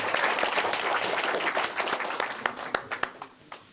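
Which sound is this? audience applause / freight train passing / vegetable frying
audience applause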